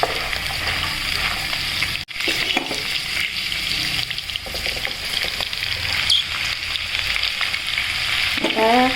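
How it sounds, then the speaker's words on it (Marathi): Rice being stirred into fried masala in a pan, a steady close sizzle and fry with scraping stir sounds running throughout, one brief dropout near the start. "मसाला खूप छान फ्राय झालेला आहे आता त्यामध्ये आपल्याला राईस ॲड करायचा आहे"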